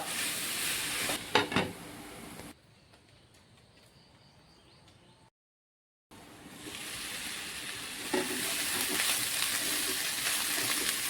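Bitter gourd pieces stir-fry in a pan over a low flame, a dense sizzling hiss broken by a few scraping stirs, dropping to a faint crackle and a brief silence before the loud frying returns.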